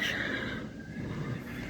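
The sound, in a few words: horse neighing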